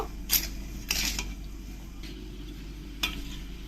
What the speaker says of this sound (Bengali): নারকেলের সঙ্গে ভালো করে চিনিটা আর গুড়টা এরকম করে মিশিয়ে দিতে হবে এরকম ঘুরতে থাকতে হবে